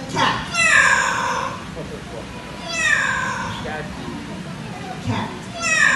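A parrot at a bird park imitating a cat's meow, three drawn-out, clear meow-like calls spaced a couple of seconds apart, loud and close.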